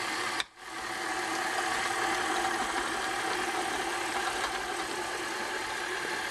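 An electric mixer on its lowest speed churns pound cake batter, a constant whirring motor hum that starts abruptly after a brief pause and runs steadily, close and moderate in level, with no talking.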